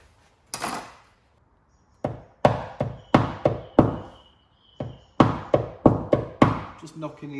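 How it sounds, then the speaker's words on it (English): A paintless dent repair tool taps down the slight crowns at the edges of a crease dent in a car panel, sharp knocks landing in quick clusters of three to five with short pauses between. "Just knocking the edges of where the dent was."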